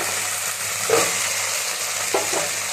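Tomatoes dropped into masala already sizzling in a pan for egg and chicken biryani, giving a steady close frying hiss with a couple of brief louder bursts and stirring scrapes.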